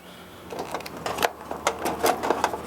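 A pop-up rotisserie motor on a Weber Summit S-470 stainless gas grill is raised and locked into place, giving a quick run of close, sharp clicks and rattling clatter.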